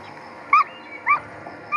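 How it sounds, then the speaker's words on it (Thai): Puppy whimpering in the zombie game Doomsday, three short high whines spaced about half a second apart, fairly clear over a quiet background. "โอ้มีลูกหมาด้วย"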